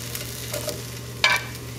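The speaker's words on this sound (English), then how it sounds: "So my pan is pretty hot." Onion and tomatillos roast in a hot pan, a faint sizzle under a steady hum, with a couple of soft scrapes and one brighter clatter of stirring partway through.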